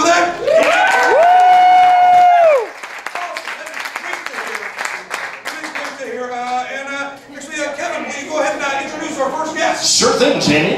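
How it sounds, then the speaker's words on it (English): A studio audience applauds and cheers for guests as they come out, with loud, lively crowd clapping and whoops after a short sustained tone, and voices mixing in near the end. "they really deserve a big round of applause when they come out"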